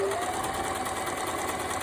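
A Hobbycraft sewing machine stitches steadily and rapidly up close, a continuous loud mechanical whirr with a fast even rhythm and no pauses.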